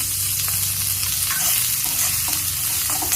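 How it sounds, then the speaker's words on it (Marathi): Chopped onion frying in hot oil in a pan for misal, a steady continuous sizzle with light stirring scrapes, close and fairly loud throughout with no talking. "कांदा भाजून घ्यायचा आहे तेल टाकून थोडंसं भाजून घ्यायचं आहे"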